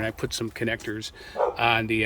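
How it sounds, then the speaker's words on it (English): A neighbour's dog barks a few times in the background, faint and brief, while someone talks close to the microphone. "excuse the dog next door"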